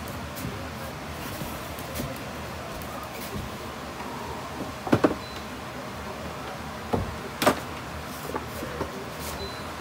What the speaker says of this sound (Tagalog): So guys, next ko yung drawer.